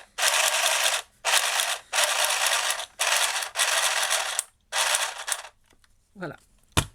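Embellishing needle-punch machine pounding fabric and paper, six loud, close bursts of rapid mechanical rattling separated by short pauses, then quiet thread handling at the end.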